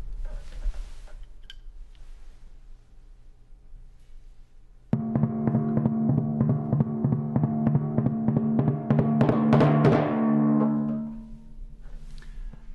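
Muted timpani ostinato from Borodin's Polovetsian Dances in an orchestral recording, entering after quiet opening seconds as a dry, steady repeated beat under the orchestra, swelling louder before fading.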